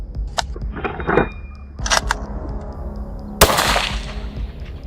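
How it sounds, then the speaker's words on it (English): Several sharp gunshots crack out at irregular intervals, each followed by a lingering echo, with one especially loud blast near the end. "The sound of gunfire echoes."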